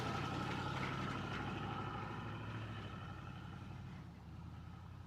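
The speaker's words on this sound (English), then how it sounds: "idling in the Impala." A Chevrolet Impala's engine idles with a steady low rumble and faint mechanical hum, continuous and fairly quiet, easing slightly softer toward the end.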